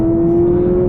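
A 2026 Honda Civic e:HEV engine holds a steady, droning hum with a strong constant tone, loud and close, with no speech.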